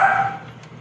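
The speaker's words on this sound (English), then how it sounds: "sorry about the dogs in the background" One short bark from a dog inside a house, fairly close and clear, fading quickly into a soft tail.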